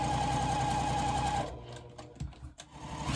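A domestic sewing machine runs a fast, even stitch for about a second and a half, buzzing steadily up close, then stops, leaving a few soft clicks and handling noises of fabric.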